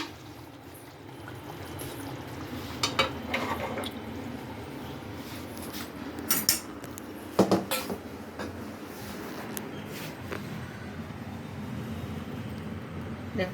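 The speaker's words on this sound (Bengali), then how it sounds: "ইলিশ মাছটা ফুটছে, কাঁচা লঙ্কা দিয়েছি" A pot of hilsa fish curry with green chillies, dried chillies and mustard oil simmers steadily, a soft continuous bubbling hiss with a few brief louder pops.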